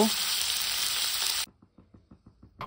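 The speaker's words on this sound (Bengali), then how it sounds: "ফুলকপিগুলো ভালো মতো সেদ্ধ হয়ে গিয়েছে আর ভালো মতো ভাজাও হয়ে গিয়েছে" Cauliflower pieces fry in hot oil with a loud, dense sizzle that stops abruptly halfway through, leaving only soft intermittent crackles and light clicks.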